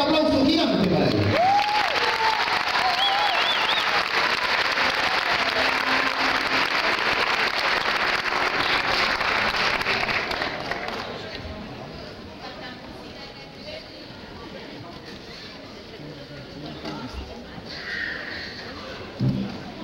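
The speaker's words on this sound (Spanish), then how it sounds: "El aplauso gigante para ellos." A crowd gives a huge round of applause for the children's and youth members of an orchestra in 2001; loud, dense clapping for about ten seconds, then it thins and fades to scattered sound and a few voices.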